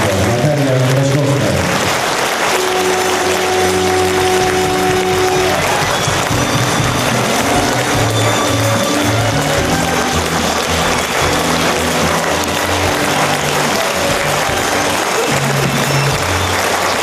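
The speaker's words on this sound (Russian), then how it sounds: "Зал встретил ее продолжительными овациями" A theatre audience gives actress Kratchkovskaya a long, sustained ovation, a loud, unbroken wash of applause that continues for the full stretch while music plays alongside it.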